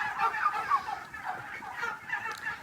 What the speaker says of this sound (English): And we're sorry for the noise, but you definitely can't say quiet to turkeys.